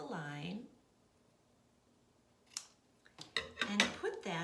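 Scissors snip through a paper card from a butterfly life-cycle activity kit, a short cluster of crisp cuts after a quiet pause, with a voice speaking briefly beforehand.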